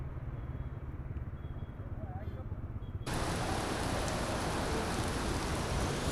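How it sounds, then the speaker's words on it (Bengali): Dense roar of heavy rain in Kolkata, a low rumble at first that swells suddenly into a louder, brighter downpour for the second half. "এত জোরে বৃষ্টি হচ্ছে, তো দাঁড়িয়েই গেছি।"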